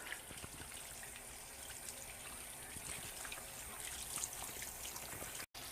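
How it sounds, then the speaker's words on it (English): Warm tap water runs steadily from a faucet into a sink while soap is rinsed off hands, a soft continuous trickle and splash that cuts out briefly near the end. "Now you rinse off all the soap."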